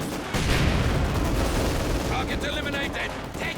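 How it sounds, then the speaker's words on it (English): Sustained MG42 machine gun fire cutting down a mortar crew in a Company of Heroes 2 battle, a dense continuous roar of gunfire with distant rattling bursts, overlapping game battle noise. "And mortar crew here got wiped out by the MG42."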